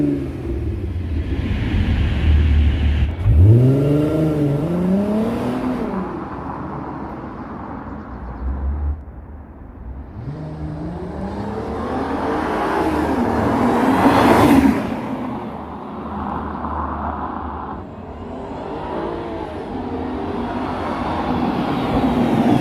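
An Audi TT 3.2 with a DSG gearbox drives past on an industrial estate: engine rumble swells and fades with rising, shifting engine tones and a rushing whoosh as it passes fairly close, with no talking.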